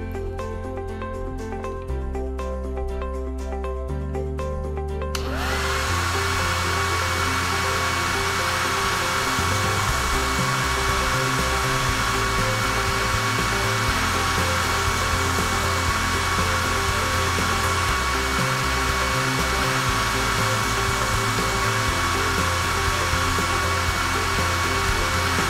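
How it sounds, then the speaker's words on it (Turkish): A hair dryer blows in a steady, loud whir for about twenty seconds at a beauty spa salon, switching on after a short stretch of music and running continuously. "Senin saçlarına fön çekelim."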